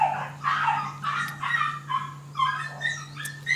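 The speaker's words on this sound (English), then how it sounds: "So the dogs are also fighting around." Dogs bark and yelp in a series of short, tonal bursts, as if scuffling, fairly loud and close over a steady low electrical hum.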